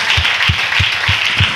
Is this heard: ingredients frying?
no